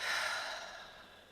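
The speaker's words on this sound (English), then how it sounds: "Taking slow breaths in" A single slow, soft exhale like a sigh, close and quiet, tapering off gradually over about a second.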